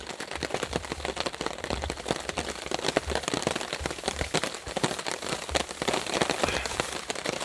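Heavy rain pelts down steadily at a wild camp, a dense, close patter of drops striking surfaces without letup and with no voices.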